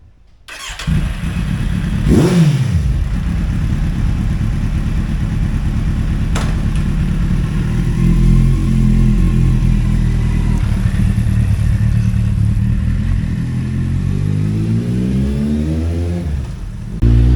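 A Kawasaki Z800 superbike is ridden, its engine loud and close as it revs and climbs through rising pitch sweeps, with a continuous growl and a brief rev surge near the start.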